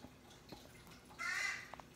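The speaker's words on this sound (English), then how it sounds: "I think it's a crow maybe." A single harsh caw sounds faintly at mid-distance, followed by two short quieter calls against a hushed background.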